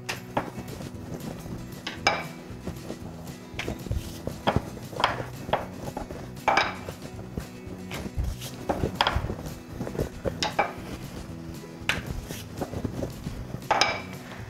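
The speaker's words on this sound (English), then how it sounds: "And dust it in flour again and roll." Dhokli dough is rolled thin on a floured board with a rolling pin, giving a series of soft knocks and rolling rumbles at a close, irregular rhythm, with light clatter in a quiet kitchen.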